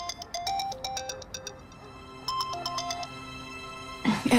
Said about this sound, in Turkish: Seni Serdar'ım arıyor.